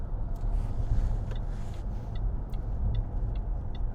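A 2010 Range Rover Sport 3.0 TD V6 HSE is driven on a road test drive, with a steady low engine and road rumble heard from inside the cabin and a few faint clicks and ticks.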